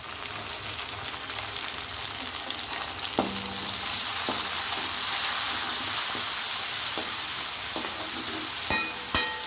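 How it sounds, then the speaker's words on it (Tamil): Vegetables for a broad bean and potato sabji sauté in a pan with salt and asafoetida, giving a continuous close sizzle broken by occasional sharp clinks of a spoon stirring against the pan. "கொஞ்சம் வதங்கட்டும் கொஞ்சமாக வதங்கட்டும் நல்லா வதங்கியிருக்கு"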